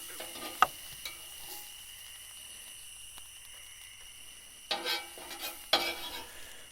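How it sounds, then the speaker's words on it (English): Onions sautéing beside a smash burger on a griddle at an off-grid campsite, a faint low sizzle broken by sharp spatula scrapes and clicks near the start and toward the end, no talk. "Burger on there. Sauteed onions."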